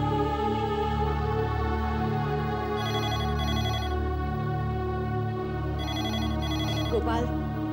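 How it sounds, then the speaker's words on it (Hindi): A telephone rings in repeated electronic bursts over a sustained musical background in a Hindi TV drama scene, with a brief higher tone near the end. "गोपाल, जरा फोन देखना।"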